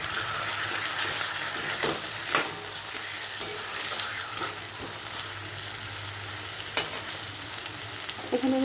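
Chicken pieces sizzle and fry in curry masala, a steady loud crackle with occasional stirring scrapes and clatters, no voices.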